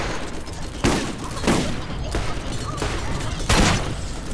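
Revolver gunfire in the video game Borderlands: several sharp, loud shots at irregular intervals over a constant background of game noise and effects, heard close.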